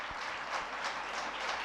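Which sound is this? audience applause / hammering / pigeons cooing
audience applause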